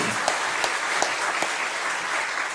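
A church congregation applauds at an Easter resurrection service, steady and dense clapping from many hands that carries on evenly for a few seconds.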